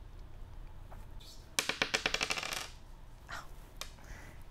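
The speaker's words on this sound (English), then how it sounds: "When I roll the dice, we are going to count the dots and draw that same number." A die rolling on a tabletop, a quick run of about ten sharp diminishing clicks as it tumbles and settles, with a few faint taps before and after.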